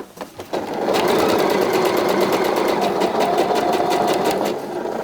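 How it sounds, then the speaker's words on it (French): A sewing machine runs a flat basting seam on swimwear fabric. A few handling clicks come first, then a steady, fast, loud, close stitching whir carries on unbroken before it slows at the end. "Et je pique tout bien à plat."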